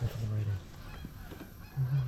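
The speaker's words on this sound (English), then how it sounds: "What are you doing when the goose comes in?" Geese honk loudly and close during an early goose and dove hunting opener, with a burst of honks at the start and another at the end, separated by a softer stretch.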